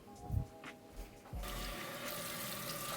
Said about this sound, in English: Now you just wanna make sure you rinse off your board and wipe your countertop off.